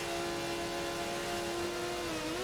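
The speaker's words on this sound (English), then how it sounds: "It sounded like a unforced upshift there." A race car in a racing video game makes an unforced upshift: a steady, droning engine tone holds, then its pitch dips abruptly near the end as the gear changes.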